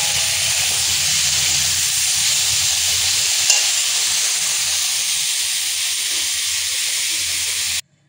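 A pressure cooker cooking rice gives off a steady, loud hiss of steam that runs unbroken for about eight seconds and then cuts off abruptly.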